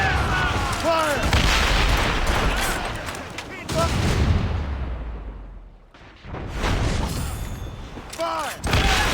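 Ship cannons firing in a naval battle in Assassin's Creed Rogue, loud booming volleys and sustained roaring gunfire with voices shouting over the din, a brief lull near the middle before more blasts.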